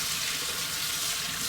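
Cold tap water runs steadily over a block of frozen noodles in a sink, a continuous close hiss and splash with no pauses.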